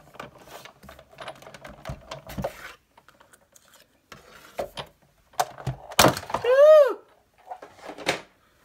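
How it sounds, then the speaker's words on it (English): A Big Shot die-cutting machine has card and vellum cranked through it, making sparse mechanical clicks and clatter, close and quiet, with a brief squeaky whistle near the end. "So when you hear that click, you know it went through."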